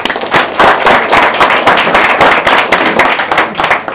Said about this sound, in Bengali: একটা জোরে তালি দিতে চাই